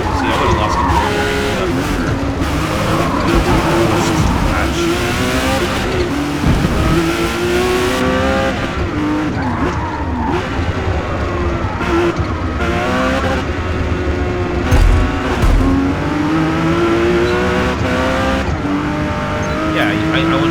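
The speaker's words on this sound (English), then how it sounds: "I went full throttle. I love how you can feel and hear the tire." Car engine at full throttle with squealing tires in the Forza racing game, a loud continuous roar with rising and falling revs and drawn-out tire squeal, while someone talks over it throughout.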